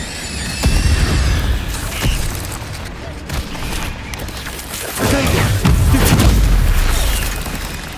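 Fire spell cast in Hogwarts Legacy on PS5, heard as booming, crackling bursts and whooshing blasts over a loud, dense game soundscape, with several heavy impacts in quick succession.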